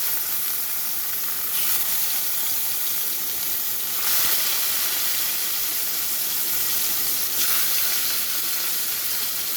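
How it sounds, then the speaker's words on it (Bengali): Fish frying in hot mustard oil in a wok, a continuous loud sizzle throughout with a few brief bursts of stronger crackling spitting. "তেলটা গরম হয়ে গেছে তো আমি মাছটা ভাজার জন্য ছেড়ে দিচ্ছি"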